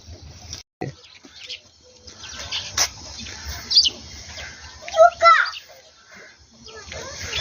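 Soft cooing and chirpy calls of pigeons mingle with children's voices and outdoor bustle, the birds nearby at moderate loudness.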